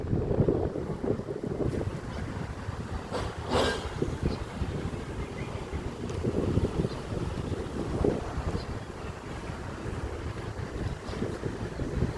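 Strong evening wind gusts steadily past the microphone outdoors, a continuous loud rushing roar with brief swells and a passing whoosh partway through, no voices.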